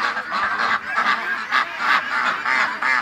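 Ducks penned up on a homestead honk and quack loudly in a steady rhythm of repeated calls, several birds close by, with no talk over them.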